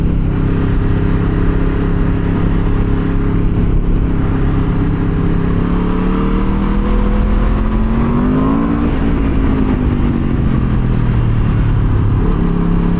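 Aprilia RSV4 superbike revving hard during a wheelie, a loud, close, constant engine roar whose pitch climbs and dips midway, with no talking over it.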